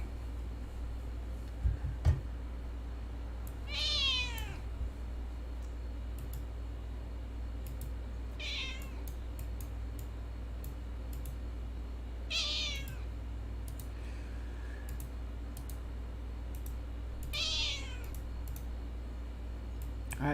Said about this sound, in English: All right, Kitty, I'm gonna get the antifreezer right now